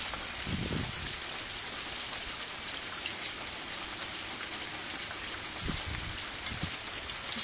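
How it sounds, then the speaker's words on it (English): Steady rain falling on surfaces outdoors near trees, a continuous hiss of drops with a few louder splashes and patters, moderately close and unbroken, with no talking. "I could hardly see the raindrops."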